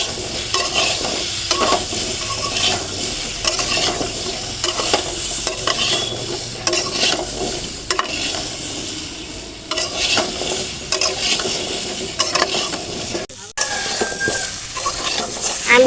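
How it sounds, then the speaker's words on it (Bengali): Vegetables stir-fried in a pan with turmeric, chili powder and salt, a continuous loud sizzle broken by repeated scraping and stirring strokes of a utensil against the pan. "একটু ভালো করে সুন্দর করে নেড়ে ভেজে নেব।"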